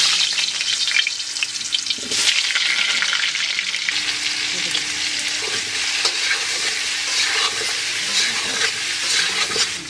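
Potatoes sizzle steadily in hot oil, a constant crackling fry with occasional stirring scrapes, close and fairly loud throughout.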